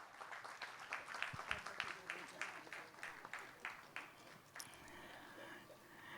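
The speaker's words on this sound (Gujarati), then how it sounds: "જરા તાપ સૌની તાળીઓ સંભળાવવી જોઈએ." An audience at a community anniversary felicitation event breaks into scattered applause and clapping. It is faint and distant, with bursts that fade toward the end.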